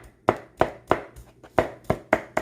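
Knife chopping food on a board for a shrimp salad, eight loud, sharp, evenly spaced thuds close up with quiet gaps between them.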